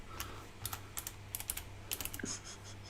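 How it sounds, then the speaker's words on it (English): Quiet typing on a computer keyboard, a few short bursts of soft clicky keystrokes with brief pauses between them, close by in a calm room. "I'm going to type in winner."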